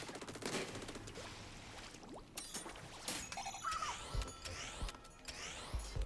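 A Splatling gun firing while strafing in Splatoon 3: rapid bursts of sputtering, spraying shots mixed with splashy impacts and clattering game effects, uneven and busy, with brief lulls between volleys.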